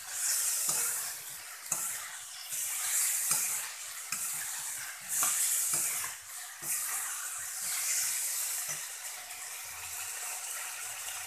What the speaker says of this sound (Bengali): এই দেখো ফুলকপি আর মশলা দিয়ে কষানো হয়ে গেছে